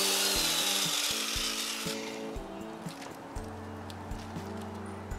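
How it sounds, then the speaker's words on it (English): A 3/16 bit drills holes into small blocks of wood, a steady whirring motor at first, then a quieter grinding with intermittent bites and knocks as the bit cuts through. "I'm using a 3/16 bit to drill holes in these little blocks of wood"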